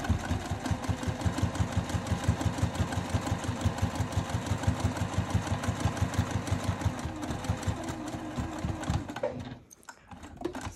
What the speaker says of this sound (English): I'm gonna sew just left of it.